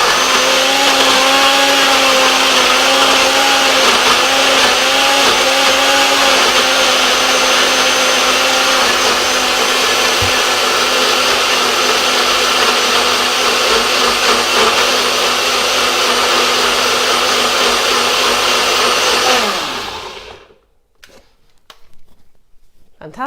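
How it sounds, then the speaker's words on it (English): A blender whirs loudly and steadily for about twenty seconds, grinding and churning beetroot, garlic, tahini and za'atar into a sauce, then winds down and stops, leaving quiet. "So that's all those ingredients into the blender."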